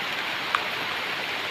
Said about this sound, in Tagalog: bumabagsak yung ulan dito at bumabayo ang Bagyong Upong